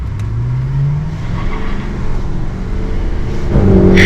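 A lifted Duramax diesel truck fitted with a Banks Derringer tuner, intake and exhaust accelerates with a loud, steady low engine roar that rises in pitch and grows louder toward the end.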